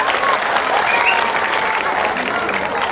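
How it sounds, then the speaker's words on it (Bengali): A crowd at a Rohingya Football League match applauds the winning team, loud sustained clapping with cheering throughout, a voice speaking faintly beneath it. "সবাই তাদের জন্য একটা করতালি"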